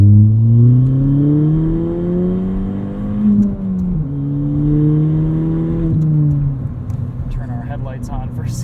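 A straight-piped 2017 Ford Fiesta ST accelerates hard through the gears, its engine note climbing, dropping at shifts and climbing again, loud from inside the cabin, with people talking over it.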